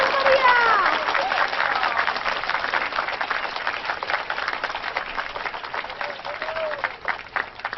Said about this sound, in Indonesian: Dan mari kita sambut dengan tepuk tangan yang meriah.